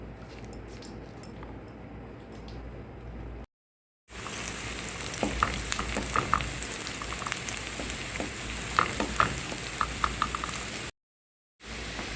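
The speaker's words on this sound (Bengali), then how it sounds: "পেঁয়াজ এবং রসুনটা আমি এখন বাদামি করে ভেজে নেব" Chopped onion and garlic sizzle steadily in hot olive oil in a pan, a dense continuous frying hiss with occasional sharper pops and stirring scrapes, interrupted by two brief silent gaps.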